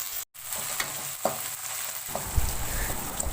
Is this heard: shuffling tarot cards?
no